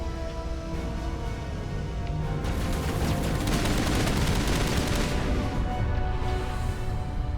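Mass Effect Legendary Edition combat plays out as a dense, continuous stream of gunfire and explosive blasts. The rapid shots stack into a loud, unbroken roar that peaks midway before easing slightly.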